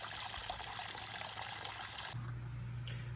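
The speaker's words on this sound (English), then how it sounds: "Water disappears down under the rocks there and is pumped back up." Water from a backyard pondless waterfall runs steadily over rocks before draining underground, a close, continuous splashing trickle that quiets partway through, leaving a softer flow with a low hum.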